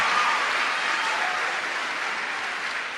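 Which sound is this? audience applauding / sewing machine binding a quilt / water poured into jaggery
audience applauding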